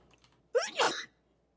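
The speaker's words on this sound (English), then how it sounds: "this is the sneeze sound" A single sharp sneeze, sampled and used as a snare drum hit in a music production track, bursts out loud and close after a few faint clicks, then cuts off cleanly into silence.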